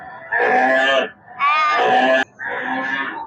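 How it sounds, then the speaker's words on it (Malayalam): A cow moos three times in drawn-out, loud, close calls with brief pauses between them. "പിന്നെ ഒരു പശുവിന്റെ ശബ്ദവും ഉണ്ട്"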